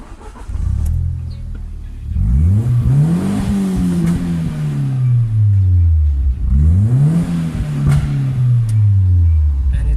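2002 Ford Fiesta Mk5 with a Rocam engine revving up close, two long rising-and-falling rev sweeps climbing then easing back down, loud and clear over idle.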